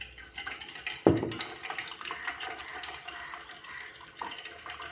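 Water mixed with gooseberry juice is poured through a tea strainer into a pot, a soft steady trickle and splash with a sharper splash near the start.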